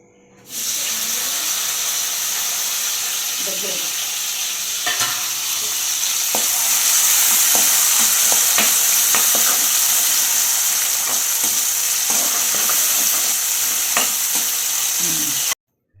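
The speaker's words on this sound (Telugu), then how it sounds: "ఇప్పుడు నేనేం చేస్తున్నాను తెలుసా ఎగ్ ఫ్రైడ్ రైస్ దానికోసం" Egg fried rice stir-fried in a pan, a steady loud sizzle running throughout with repeated scraping and clinking of the spatula against the pan, close by, then cut off abruptly at the end.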